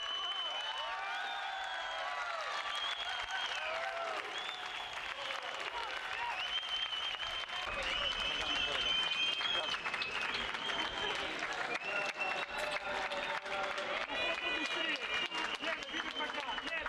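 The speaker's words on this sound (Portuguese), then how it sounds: "a assistência aplaudia a vitória de Tiago" Crowd applause at the pits greeting a motor racing victory, sustained and dense clapping from a large audience throughout, swelling slightly in the middle with scattered cheers and chatter.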